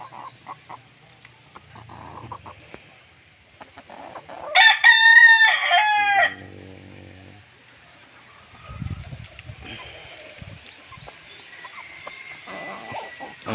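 A wild labuyo fighting rooster crows once loudly and close, a rising-falling harmonic call, with scattered clucks, rustling and other birds faint in the background.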